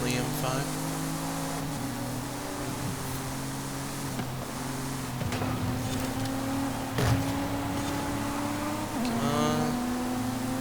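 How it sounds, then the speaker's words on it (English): A BMW M5 V10 engine bellows in Forza Horizon 5, a steady droning engine note that shifts in pitch several times, running continuously under a voice speaking over it. "Hear that V10 bellow from the M5."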